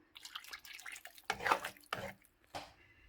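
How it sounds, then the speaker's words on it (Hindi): Water splashes and pours in a few short bursts into a pan of pav bhaji, with quiet gaps between the pours. "ये जो हमारा पानी रखा है वो हम डाल लेंगे"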